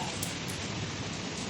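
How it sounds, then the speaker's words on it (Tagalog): Rain falling at Kai Tak Sports Park in Hong Kong: a soft, steady hiss of rainfall, even and unbroken, fairly faint. "Naabutan kami ng ulan dito."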